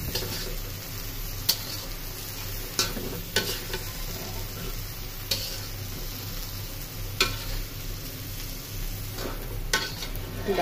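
Saag greens cooking in a pan, a steady close sizzle with soft stirring scrapes and occasional utensil clicks against the pot, continuous throughout with no talking.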